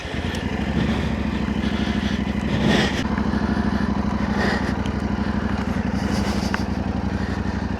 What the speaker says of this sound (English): But this T7, what a great bike to be riding up here.